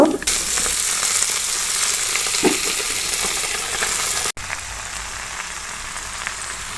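Red amaranth greens sizzle steadily in a hot pan, a continuous broadband frying hiss like light rain, with a brief dip partway through and no talking.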